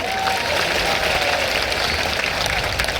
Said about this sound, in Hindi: इनको ताली बजाकर धन्यवाद दो।